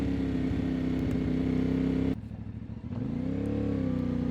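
A 2024 CFMOTO 450MT adventure motorcycle is ridden with a steady droning engine hum, a brief drop as the throttle eases off, then rising again as it accelerates.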